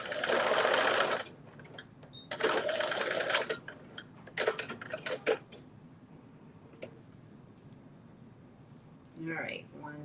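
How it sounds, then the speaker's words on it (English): A sewing machine stitching fabric pieces together, running in a few loud bursts of fast mechanical whirring between pauses, with quieter handling sounds and a brief voice near the end. "I'm sewing this together"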